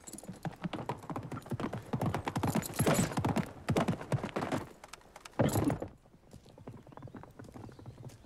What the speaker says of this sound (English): Whitey, take that bucket and ride out until I signal